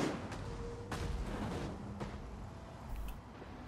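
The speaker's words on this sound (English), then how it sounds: "Right, the artillery is engaging." Artillery in Rome II Total War fires in scattered booming thumps, a few distinct blasts spread across a constant din of battle noise, moderately distant.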